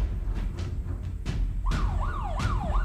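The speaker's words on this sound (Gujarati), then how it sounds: "આ રીતે તમારે સાયરન વાગશે" A mobile phone anti-theft alarm siren wails in repeated rising-and-falling electronic sweeps, preceded by a few sharp clicks and taps; loud and close, with no talking.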